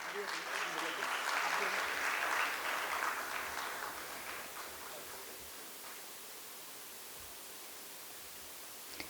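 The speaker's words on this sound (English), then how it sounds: "give a huge round of applause" Audience applause at a stock exchange listing ceremony, a broad wash of clapping that starts strong and gradually fades to a quiet room tone, with no talk over it.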